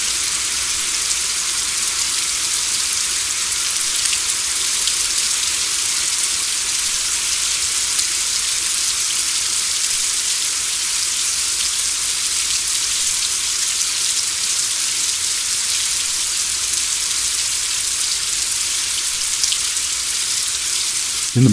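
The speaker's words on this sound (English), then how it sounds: "The pleasant rain continues" Steady rain falls on a garden near the Sarapiqui River in Costa Rica, an even, unbroken hiss of drops on foliage and surfaces with no voices.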